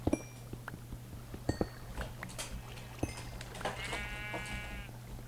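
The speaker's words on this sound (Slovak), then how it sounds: "Aha, ovca." Sheep in a survival video game bleat in a quick wavering cry near the end, preceded by faint clicks and scattered game sounds over a low steady hum.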